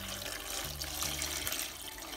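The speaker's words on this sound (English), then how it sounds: "First, we're going to put some warm water" Warm water running from a tap into a baby bathtub for a newborn's bath, a steady continuous splash and hiss that stays even throughout, with a low hum beneath and no talking.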